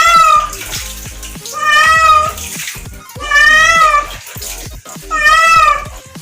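An Angora cat being bathed meows loudly and repeatedly in drawn-out, distressed wails, with water splashing and running underneath, close up.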